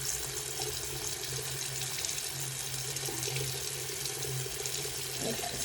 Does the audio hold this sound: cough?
no